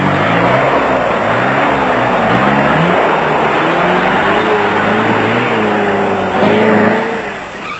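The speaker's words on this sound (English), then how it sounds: "Turbo Diesel of Mike Redden and Wyatt Joseph found that a footful of throttle was the only way to overcome a large rock that had been dislodged by the Birkins car." Land Rover Turbo Diesel rally car at the 1996 Roof of Africa off-road race, engine revving hard and straining over a large rock, loud and continuous with wavering pitch, swelling near the end.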